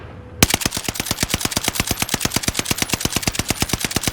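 The NZ-41 rifle fires while mounted in a video game, a long, evenly spaced burst of sharp, loud shots after a brief quiet start, about eight rounds per second.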